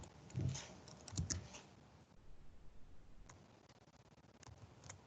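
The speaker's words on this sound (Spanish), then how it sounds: "Voy a escribir con el teclado mejor." Rapid, light keystrokes tap on a computer keyboard during a probability lesson, steady ticking clicks running through the clip at close range, fairly quiet, with a couple of louder thumps near the start.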